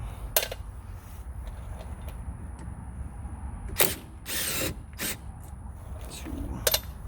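A 12 mm ratchet loosens a brake bolt on a 2014 Honda CR-V, giving a few short, sharp clicking bursts close by over a low background hum, with brief gaps between the strokes.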